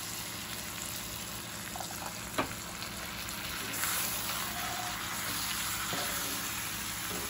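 Chicken taco filling with taco seasoning and water simmering in a pan, a steady soft bubbling and sizzling hiss with a single sharp clink partway through, no talking.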